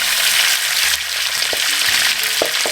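Pieces of lamb neck browning in a hot pan for an Indian fruity curry, giving a loud, steady sizzle and crackle with a few small pops throughout.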